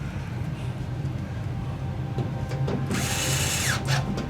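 A power tool drives screws back into a Philips 40PFL3705 television, a short whirring burst rising near the end over a low background hum.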